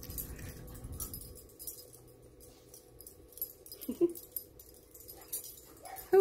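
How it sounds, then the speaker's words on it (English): A dog pants after training, quick soft breaths close by, with small whimpering sounds, a brief jingle of tags or keys, and quiet rustling. "All that panting, by the way, is just from the 10 minutes of training we've done so far."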